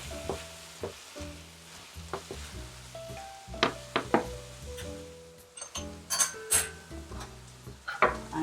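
Salt, pepper, turmeric, dry mint and golpar stirred in a pan, soft sizzling beneath irregular scraping strokes and sharp clinks of a utensil against the pan, close and moderately loud.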